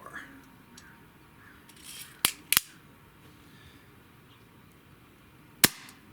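Weihrauch HW45 air pistol fired over a chronograph, giving a pair of sharp, close snaps followed a few seconds later by another single crisp crack, all standing out clearly above a quiet, steady room background.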